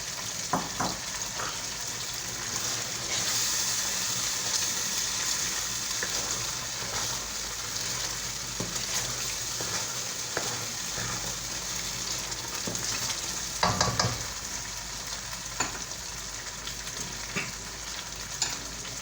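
Tomatoes fry in a pan with a steady, close sizzle and crackle that continues throughout, with occasional stirring scrapes and clatters.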